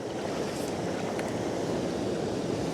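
Sea waves wash in white onto the shore of a seascape, making a steady, moderately faint surf hiss with some wind noise and no talking.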